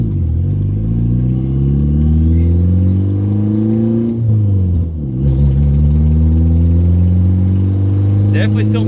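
A turbocharged Mazda 3 with a faulty MAF sensor accelerates on the gas, its engine note climbing steadily in pitch, dipping briefly as it shifts around midway, then rising again, loud and continuous from inside the car.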